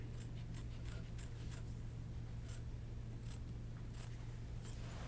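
Double-curve appliqué scissors trim a piece of fabric in a run of about ten quick, crisp snips, close and soft over a low steady hum.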